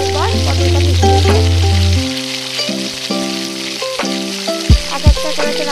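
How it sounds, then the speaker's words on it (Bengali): Pointed gourd fries in hot oil with a steady crackling sizzle throughout, layered under sustained tonal humming sounds, a low droning tone that stops early, and a couple of sharp thumps near the end. "দেখতে পাচ্ছি এখন পটলটা মাখিয়ে দিয়েছে গরম তেলের মধ্যে"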